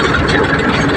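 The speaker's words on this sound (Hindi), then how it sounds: "हम यहाँ पर ट्रैक्टर को थोड़ा धीरे कर लेते हैं" Tractor engine rumbling on a road, a loud, steady, dense drone with no voices over it.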